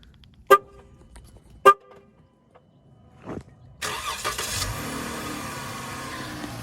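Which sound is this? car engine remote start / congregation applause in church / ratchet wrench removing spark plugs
car engine remote start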